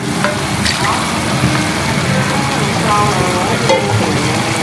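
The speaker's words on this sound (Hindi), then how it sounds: "यखनी शामिल करते इसको अच्छी तरह से भून लेंगे" Beef frying hard with tomatoes as meat stock is added for a smoky yogurt beef curry. The dense, loud sizzle runs throughout, with occasional stirring scrapes.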